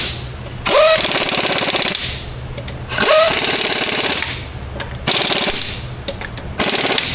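Pneumatic impact wrench tightening wheel lug nuts on a Ford 2.7 EcoBoost axle in four loud, rapid bursts of hammering, each about a second long, separated by short pauses with a quieter ratchety whine between.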